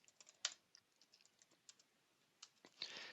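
Code is typed on a computer keyboard in quick, uneven bursts of soft clicks, faint and close, with no voices.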